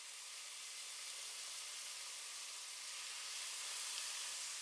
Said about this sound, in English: Add the marinated beef cubes to the oil one by one and allow them to sizzle in